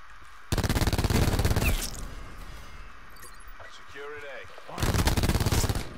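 Rapid automatic gunfire from the video game Black Ops 4, two loud sustained bursts at the start and end with a quieter stretch between, fired close up.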